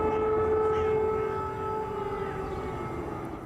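An air raid siren wails over a Ukrainian city during wartime bombardment, holding a steady, loud, sustained tone from a distance that dips slightly in pitch partway through, with no voices.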